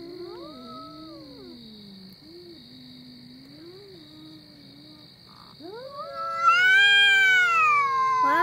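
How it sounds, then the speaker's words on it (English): A cat yowls in a fight-ready standoff, long wavering moans that rise into a loud, harsh caterwaul near the end, close and unaccompanied by talk. "pretty kitty. What do you want to fight for?"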